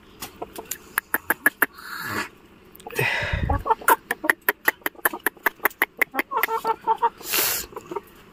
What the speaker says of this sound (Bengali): এ খুব ভালো, এ খুব ভালো মুরগি, ডিম পাচ্ছে